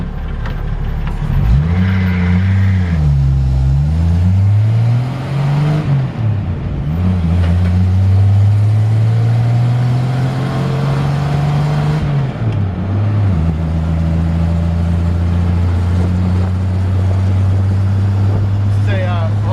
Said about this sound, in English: It's got a 170 6-cylinder, runs great.